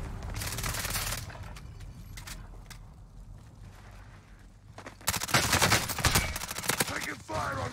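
Bursts of automatic gunfire and rattling shots in the Call of Duty Warzone video game on Rebirth Island, loud and dense, with a quieter stretch in the middle before a heavy volley returns.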